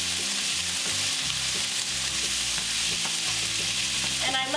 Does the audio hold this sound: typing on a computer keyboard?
no